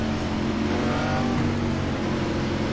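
Loud, steady NASCAR stock car engine roar in the iRacing sim, a continuous mid-pitched drone with slight revving swells throughout, heard alone with no talk.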